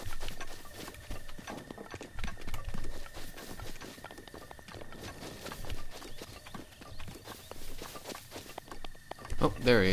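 Horse hooves clip-clop at a walking pace in Breath of the Wild, a steady patter of footfalls running under game sounds and talk, with a louder burst near the end.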